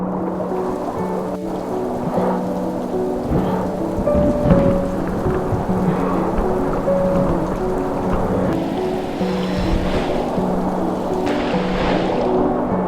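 Steady rain pours down with low thunder rumbling through it in Zion National Park's Narrows, continuous and fairly loud, with a few heavier gusts of downpour.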